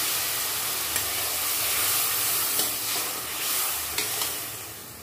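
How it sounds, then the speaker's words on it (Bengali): Ground turmeric, chili and cumin, with bay leaves, frying with a splash of water in a pan for a magur fish and green banana curry. A steady, close, loud sizzle and hiss carries throughout, with a few sharp spits and pops. "একটু পানি দিয়ে মশলাটাকে কষিয়ে নেব"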